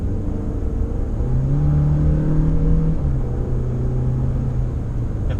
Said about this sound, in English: there is a rather interesting engine note